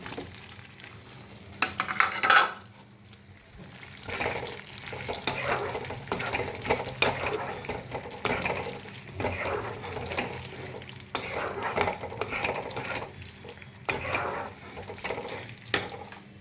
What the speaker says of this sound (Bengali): এবার আমি এর মধ্যে দিয়ে দেবো যেই টমেটো ক্যাপসিকামগুলো বানিয়েছি, এই টমেটো ক্যাপসিকামগুলো এর মধ্যে দিয়ে দেবো।